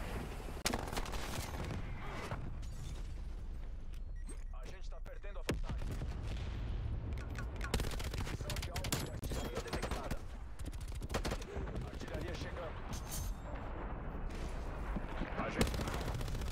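Rapid bursts of gunfire crackle throughout, dense and rattling like automatic weapons in Black Ops Cold War Team Deathmatch game audio, with brief lulls between volleys.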